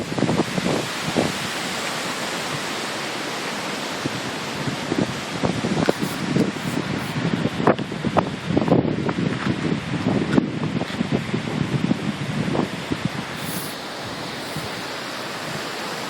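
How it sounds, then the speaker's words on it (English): Strong hurricane wind roars continuously outdoors, buffeting the microphone with rough, rushing gusts that surge and ease over about sixteen seconds, with scattered crackling and rustling debris sounds. "When the wind gusts up, I can feel the camera, the phone wanting to blow right out of my hand."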